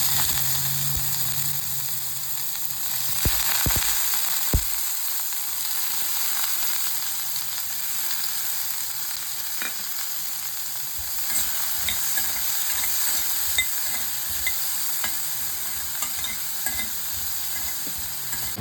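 Raw banana pieces frying in a pan for a gunpowder spice mix, a continuous close sizzle and hiss with repeated stirring scrapes and a few sharp knocks early on, and no talking.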